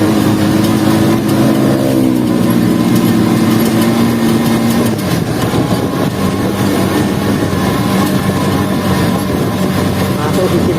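A Viar three-wheeler's engine pulls up a hill in third gear at about 6,000 rpm on a night ride, a loud, continuous drone with a harmonic whine that sags lower partway through, wrapped in steady road and wind rush.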